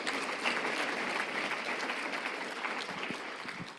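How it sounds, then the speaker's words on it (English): Conference audience at the African Economic Conference 2024 applauding the MC, a steady, dense wash of many hands clapping throughout, moderately distant and even in level. "I think the MC deserves another better round of applause."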